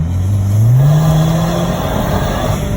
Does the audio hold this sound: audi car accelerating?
yes